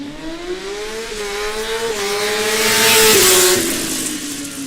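A Formula Student race car launches on an acceleration run, its engine note climbing steadily through the gears with brief shift dips, growing louder as it passes close and then fading slightly.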